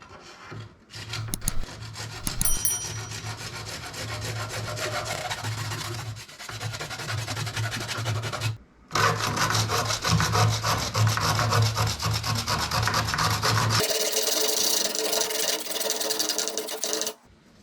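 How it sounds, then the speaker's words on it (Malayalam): A Total hacksaw with a 12-inch blade cuts through 22.2 mm CPVC pipe in steady, rapid back-and-forth rasping strokes. The sawing is close and loud, runs continuously with two brief pauses, and stops near the end. "അപ്പോൾ CPVCയുടെ പൈപ്പൊക്കെ നല്ല സ്മൂത്തായിട്ട് കട്ടാവുന്നുണ്ട്."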